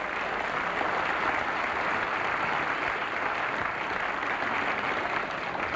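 Sustained, dense applause from an audience at a strongman contest in Friesland in 1985, steady and unbroken throughout with no voices standing out.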